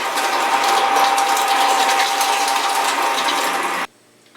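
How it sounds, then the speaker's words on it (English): A meat grinder churns pork head meat for headcheese with a loud, steady mechanical grinding whir that runs continuously and then stops abruptly. "You don't want to put too much in so it doesn't stop the grinder."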